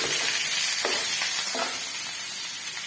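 Chopped onions, green chillies, ginger and curry leaves frying in hot oil with mustard seeds for a prawn roast: a steady, fairly loud sizzle broken by a few short scrapes of a spoon in the pan.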